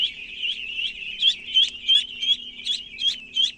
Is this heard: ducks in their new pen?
yes